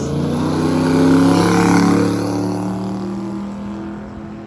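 An El Camino and a four-door Ford hot rod drag racing on a street, engines roaring loudly with a building rev that swells around the middle and then fades slightly, heard alone without talk.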